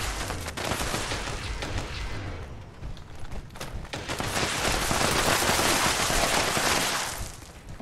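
Sustained gunfire from a Fallout 76 multiplayer session, a dense run of shots that dips briefly midway and then returns louder and steady to the end, with no voices over it.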